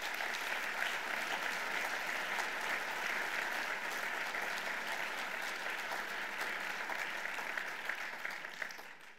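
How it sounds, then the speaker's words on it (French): Guests at an annual business reception applauding a newly introduced team, a long, steady spread of clapping at moderate distance that thins slightly toward the end. "je vous demande de les applaudir."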